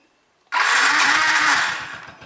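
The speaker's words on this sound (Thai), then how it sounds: "บิดปุ๊บกุญแจเป็นออนเขาเลยสตาร์ไปเลย" A Chevrolet Spark engine fires up after its key is turned on, giving a sudden loud start that settles into a steady, close, even idle with a low rhythmic pulse and no talking.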